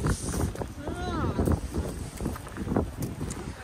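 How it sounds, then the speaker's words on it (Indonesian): Cold wind gusts across an outdoor tulip field, buffeting the microphone with low rumbling bursts while a person talks over it. "Oh, dingin anginnya,"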